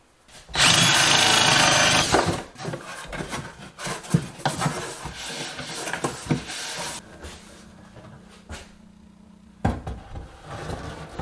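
A power drill whirs loudly for a couple of seconds while drilling a hole during a kitchen range hood install, then short bursts of drilling and knocking follow, fading to quieter rubbing and one last brief buzz.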